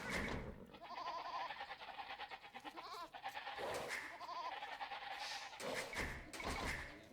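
Sheep bleating in Age of Empires II, several short, nasal in-game bleats repeating over a steady bed of game sound and music, with no voices.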